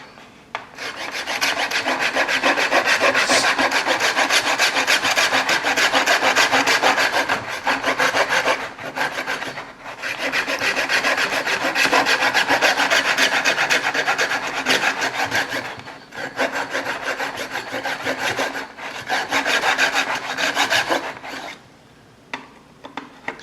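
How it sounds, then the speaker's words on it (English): A hand saw rasps steadily back and forth in long, even strokes, loud and close, cutting a visor for a Schutt Ion helmet, pausing briefly a few times before resuming. "you don't have to just watch me sawing away"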